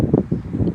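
Wind in a park gusts against the microphone in brief, low, blustery buffets that rise and fall over under a second.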